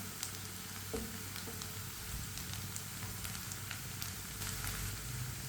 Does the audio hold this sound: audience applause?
no